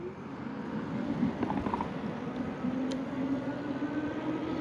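Inexpensive electric bike climbing a hill on throttle only, a steady motor whine under rushing wind noise outdoors, close and fairly constant, no talk.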